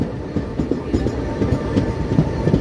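The Delhi to Pune Special Express rolls over the rails nearing Kalyan, its wheels beating a steady clickety-clack rhythm close and loud with no voices.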